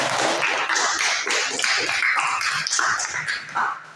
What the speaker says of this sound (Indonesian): Oke, tepuk tangan dulu untuk kita semua.